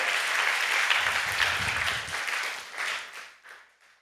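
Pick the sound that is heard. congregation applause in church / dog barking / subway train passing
congregation applause in church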